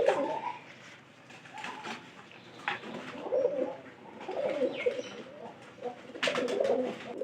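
Pigeons in a loft coo in repeated soft, throaty rounds, one of them a bird suffering from a cold, with the calls rising and falling close by.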